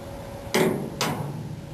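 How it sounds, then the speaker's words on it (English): Two sharp metallic hammer strikes on a center punch denting metal on a pickup truck, about half a second apart, loud and close against a low background hum. "I'll just use this center punch"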